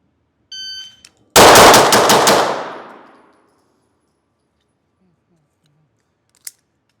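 Handgun fired in a fast string of about five close, loud sharp shots at a drill, followed by a fading ring, with a faint click before and a tiny tick afterward.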